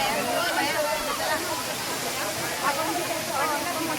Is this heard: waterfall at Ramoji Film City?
yes